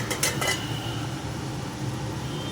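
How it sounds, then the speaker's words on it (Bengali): A metal lid lifts off a pan of cooking chickpea greens with spinach, turmeric added, giving a couple of quick clinks, then a steady low simmering hiss carries on alone. "ঢাকা খুলে দেখব"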